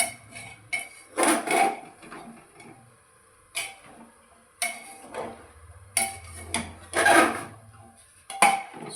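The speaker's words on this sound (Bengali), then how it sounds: "এবার আমি খুব ভালোভাবে এটাকে একসাথে মিশিয়ে দেব" Chicken stew being stirred in a pot: intermittent scraping and clinking of a utensil against the pot in irregular bursts, with quieter gaps and a low hum between strokes.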